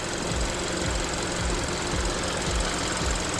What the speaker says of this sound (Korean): 8만 키로 주행한 차량 엔진 사운드 한번 들어보시기 바랍니다.